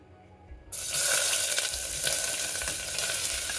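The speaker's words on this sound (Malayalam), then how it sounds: "വെളിച്ചെണ്ണ ചൂടായിട്ടുണ്ട് ഇതിലേക്ക് ഈ സവാള അരിഞ്ഞത് ചേർത്ത് കൊടുക്കാം" Chopped onions hit hot coconut oil for a Kerala-style pressure-cooker chicken curry, bursting into a loud, steady close-up sizzle after a short quiet start, with no talking.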